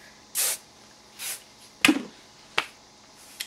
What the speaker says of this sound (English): you want to make sure you give it a good spray everywhere.